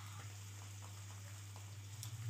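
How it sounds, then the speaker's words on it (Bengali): Large pabda fish frying in a pan gives a faint, steady sizzle with a low constant hum underneath, growing slightly louder toward the end. "মাছ ভাজছে, বড় পাবদা মাছ এনেছে"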